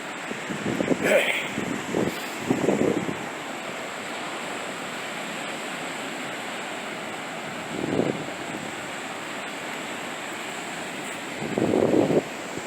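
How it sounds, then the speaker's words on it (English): Small ocean surf at Back Bay Wildlife Refuge, a constant wash of breaking waves with occasional louder swells and gusts of wind against the microphone. "Nice little surf here today."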